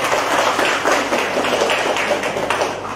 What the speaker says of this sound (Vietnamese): Một tràng pháo tay thật lớn lên trên.